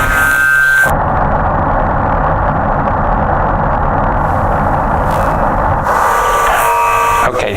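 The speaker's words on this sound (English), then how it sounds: "that is the sound of the Big Bang" Sonified astronomical data meant as the sound of the Big Bang, a loud, continuous broadband hiss and rumble like static noise, shifting slightly in tone midway and near the end.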